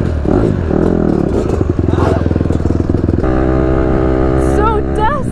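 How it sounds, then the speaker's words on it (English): A dirt bike engine revs and drones loudly up close, its pitch rising and falling as the rider accelerates, ending in a higher whining rev. "Let me teach you how to fall on a dirt bike."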